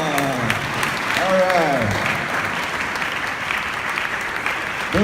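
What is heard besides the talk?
audience clapping to celebrate her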